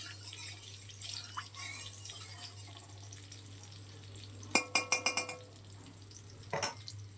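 Oil sizzles steadily in a pan while jackfruit and potato cook, then a burst of sharp clinks and taps from a utensil against the pan cuts in, followed by a couple more scrapes near the end.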